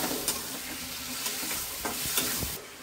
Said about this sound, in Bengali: নুন আর হলুদ দিয়ে দিলাম, এবার কষিয়ে নেব।